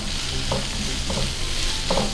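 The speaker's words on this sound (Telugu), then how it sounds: "ఒకసారి కలుపుకోవాలి." Sliced onions and a finely chopped green chilli frying in a pan as rava cutlets are made, with a steady sizzle and soft stirring scrapes recurring every half second or so.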